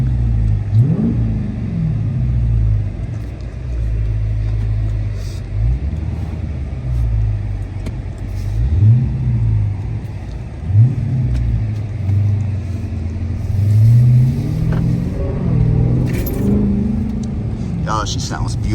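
A Dodge Charger Hellcat with its mid muffler deleted revs repeatedly while parked nearby, its deep, loud V8 roar swelling and dropping in rhythmic blips over a rumbling idle, with people talking around it.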